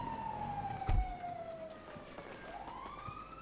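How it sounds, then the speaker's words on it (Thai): In the video game GTA V, a police car siren wails with a long descending tone followed by a rising sweep, fairly faint and distant, with a brief thump near the start and no talk. "รถตำรวจ"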